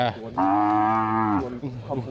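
A cow on a rural Thai cattle-grazing trail gives one long, loud, close moo, with faint rustling before and after.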